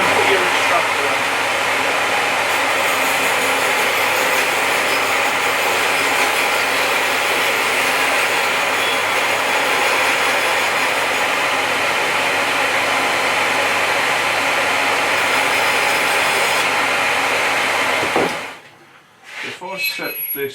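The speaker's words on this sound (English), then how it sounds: "So get the machine running first," A BS350 band saw runs alongside its dust extractor, setting up a loud, steady whirring drone that holds evenly for most of the stretch before cutting out abruptly near the end.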